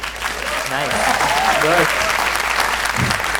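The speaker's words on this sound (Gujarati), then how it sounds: "વગાડો જોરથી તાળી વગાડો." An audience claps loudly and steadily throughout, a dense wash of hand claps with a couple of voices briefly heard over it.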